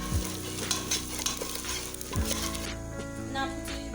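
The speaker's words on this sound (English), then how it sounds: "You fry the egusi to be dry. Keep on stirring it to avoid burning." Ground egusi seeds fry dry in a pot while a spoon stirs them, with a constant sizzle and repeated scraping strokes against the pot, close and fairly loud.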